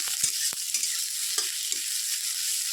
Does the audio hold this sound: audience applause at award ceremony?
no